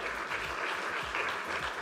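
Warm audience applause at a European fisheries and aquaculture policy event, a continuous even wash of many hands clapping throughout, moderately loud and alone without speech.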